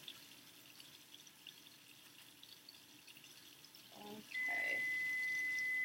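Warm water running from a sink tap for hand washing, starting quietly and then gushing steadily for the last couple of seconds, close by, after a brief spoken word.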